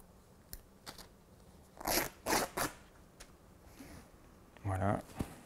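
Scissors snip through a strip of fabric in a few short, crisp cuts close by, separated by quiet pauses, with faint rustling of the cloth between them.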